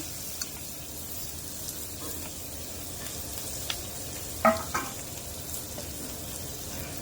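Onion and green chillies frying in oil left over from frying fish, a continuous close hiss and sizzle with a couple of brief scrapes or clinks partway through.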